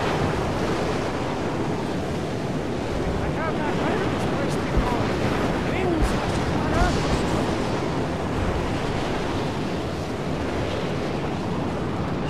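A roaring storm wind rushes without break in the Mad Max video game, a dense, loud whooshing wash that stays even in level across the whole stretch, with no clear talking over it.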